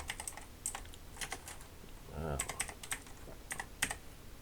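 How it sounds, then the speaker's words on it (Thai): Typing on a computer keyboard while posting to Instagram from a PC, a few scattered quiet key clicks in short bursts, close by, with a brief murmur of voice in the middle. "เดี๋ยวผมขอพิมพ์ดูก่อน"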